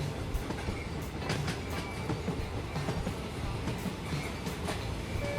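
Cartoon train pulling luxury carriages, a continuous rumble of rolling wheels with rhythmic clickety-clack and light rattling, steady and fairly close with no voices.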